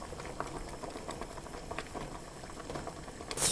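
Spring cabbage stems, then leaves, blanching in a pot of boiling water for a Korean home-style dish: a soft, steady bubbling and patter of simmering water, fairly quiet and close, with no voices.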